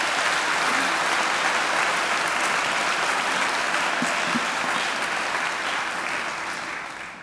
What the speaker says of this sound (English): I think Luck Luck deserves another great round of applause.